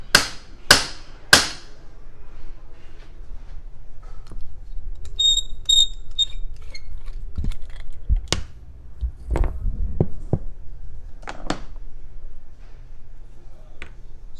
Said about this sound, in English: we're going to beat the heck out of this vise over here.